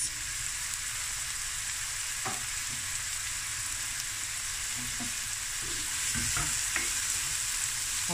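A seafood mix of shrimp, crab and squid sizzles steadily in a pan, with soft scraping stirs now and then and no talk.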